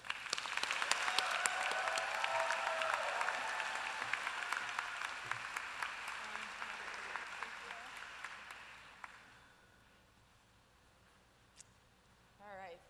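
An audience in a college of osteopathic medicine hall applauds to welcome a speaker, with steady, moderately distant clapping for about eight seconds that then fades out, followed by near quiet.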